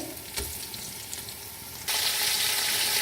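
Mutton sizzling in hot oil with onions, cloves, cinnamon sticks and cardamom for dal gosht, a steady close frying hiss that suddenly swells louder and brighter partway through.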